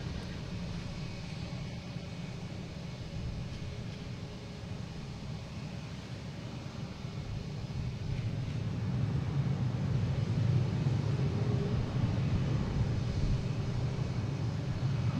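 A JetBlue Airbus A321 arriving from LAX at Boston Logan International Airport, heard as a low broadband jet roar that swells louder midway and holds, distant to moderately close, with no talk over it.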